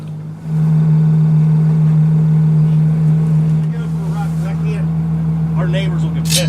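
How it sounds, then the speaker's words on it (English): A Ferrari F12 Berlinetta with an aftermarket exhaust holds a loud, steady engine drone close by, easing slightly as it moves off, while people talk and call out over it near the end. "This is what a Ferrari should sound."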